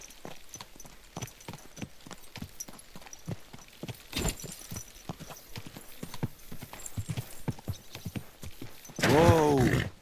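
Horse hooves clip-clopping at a steady walking rhythm in Kingdom Come: Deliverance II, close and moderately loud, ending with a loud horse whinny.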